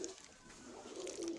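A pigeon coos softly and briefly at low volume, the low throaty note swelling near the end amid quiet room noise.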